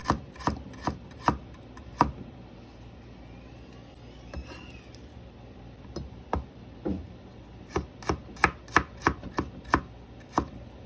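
Garlic cloves being sliced into rounds with a knife on a cutting board: quick, close, crisp chops in uneven bursts with short pauses, no talking.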